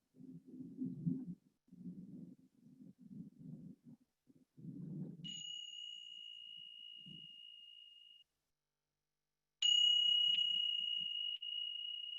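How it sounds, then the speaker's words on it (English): A meditation bell is struck twice, each strike a clear, bright ring that sustains and slowly fades, following a few seconds of low, muffled murmuring. "So I will begin and end this session with some bells."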